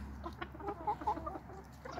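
Young roosters on a Finnish farm clucking and giving short crowing calls, several birds close by in a steady, busy chatter with no talking.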